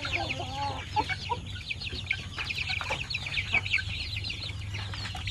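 Native meat-breed chickens with oriental lineage, clucking and chattering continuously in a busy flock, several birds close and moderately loud over a steady low background hum.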